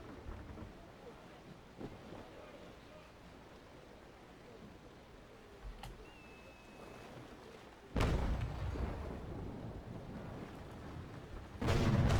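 Ship cannons fire in the naval game Naval Action, two heavy booming bursts that land late and roll out over wind and sea noise, with a faint distant thud earlier.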